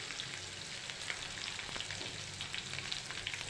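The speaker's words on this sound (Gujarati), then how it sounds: "તેમાં આપણે આદુ અને લસણ લીધા છે વાટેલા થોડા સાતળી લઈશું" Crushed ginger and garlic sauté in about two spoons of hot oil, giving a steady, close, low sizzle with faint crackles throughout and no talking.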